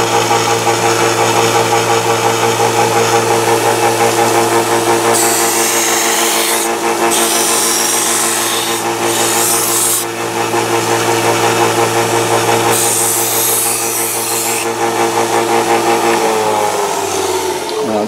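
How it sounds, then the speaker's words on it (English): Belt sander running steadily while shaping a holster, a loud continuous motor whine with a rough abrasive rasp that swells and eases as the work is pressed on and lifted from the belt. "Now we'll go back over to the belt sander."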